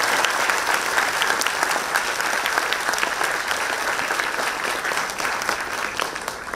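Loud, sustained applause from an audience at a Kannada stage drama performance, a dense steady clapping that fills the space without pause.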